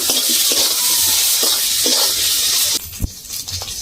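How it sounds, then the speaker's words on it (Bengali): Hilsa fish oil sizzles loudly in a pan with brinjal as ingredients are sautéed, a steady bright frying hiss broken by a few stirring knocks before it eases. "এই দেখুন মাছের যে তেলটা, ভালো করে এবার কষিয়ে নেব"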